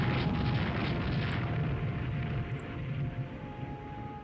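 Heavy naval guns fire and shells strike in the Rule the Waves 2 naval video game, a continuous deep rumbling roar of distant booms that stays loud, then eases slightly toward the end.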